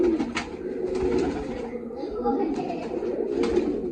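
Pigeons kept for sale coo softly nearby, low throaty warbling calls mingling with a person talking close by.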